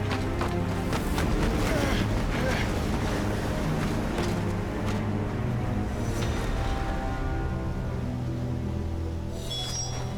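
Stormy wind blows in the video game Final Fantasy XVI, a steady broadband rush with a low rumbling undertone that carries on throughout and eases slightly near the end.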